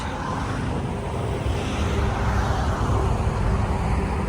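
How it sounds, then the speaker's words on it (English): Road traffic on a bridge over the Shenandoah River near Harpers Ferry, a heavy, steady rumble of passing vehicles that swells slightly louder toward the end, heard close by without talk. "So We're crossing the Shenandoah River on the noisy traffic bridge."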